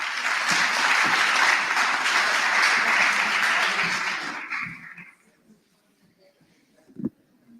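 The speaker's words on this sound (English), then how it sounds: "let's give him another huge round of applause" A hall audience at a national student council induction ceremony applauds loudly and densely for about four seconds, then the clapping dies away into near quiet, broken by one sharp knock.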